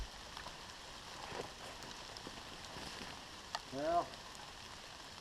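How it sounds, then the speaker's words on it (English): A light rain shower falls outdoors among trees during a trapping trip, a faint steady patter of drops running under the scene, with a brief spoken word near the end. "the rain wouldn't hold off. Looks like just a shower, but starting to get a little wet."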